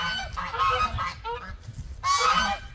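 Geese honk loudly and close by in two raucous bursts on a rural homestead, harsh repeated calls with no talk.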